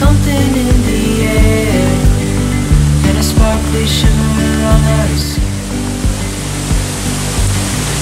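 A steady, dense rush of falling water from a mountain waterfall fills the scene at a constant loud level. Faint low rhythmic thumps sit underneath it.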